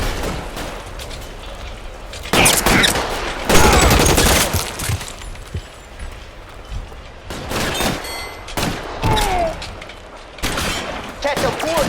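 Gunfire erupts in the crime game L.A. Noire: loud, close bursts of repeated shots with booming reports, coming in several volleys with short gaps while a voice shouts.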